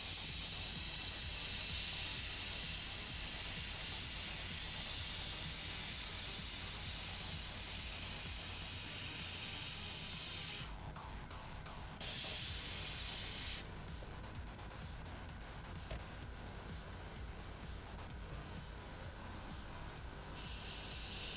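An airbrush sprays paint onto a model M60 tank kit with a continuous faint hiss that stops briefly twice, at a quiet, even level with no talk.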